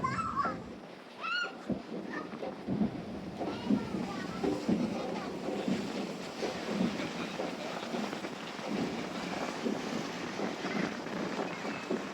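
Steady wind and rushing water of open sea off Gijón with a boat's low rumble, voices talking faintly throughout.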